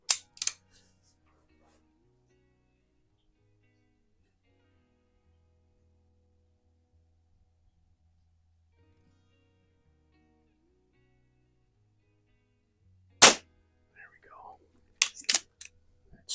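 Baikal IZH-46M SSP air pistol fired one-handed outdoors on a windy night, sharp snapping shots, one at the start and a cluster near the end, separated by long quiet.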